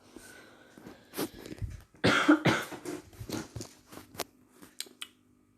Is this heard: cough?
yes